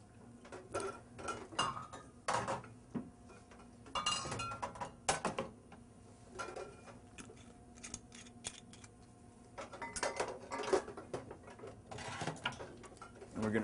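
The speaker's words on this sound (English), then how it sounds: "And we're going to stir this drink." Ice clinks and ticks steadily against a mixing glass as a bar spoon stirs a Manhattan of whiskey, sweet vermouth and a few dashes of bitters, a light rhythmic rattle repeating throughout.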